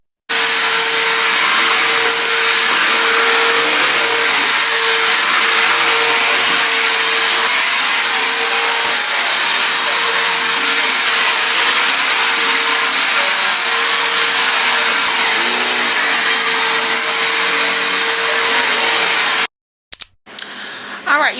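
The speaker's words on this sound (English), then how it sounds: "so I am done vacuuming" A household vacuum cleaner drones steadily and loudly up close for about twenty seconds with a constant motor whine, then cuts off abruptly, leaving a few brief knocks.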